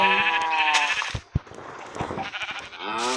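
Minecraft sheep bleat in a couple of clear, nasal calls at the start and end, separated by brief clicks and game noise, with no talk.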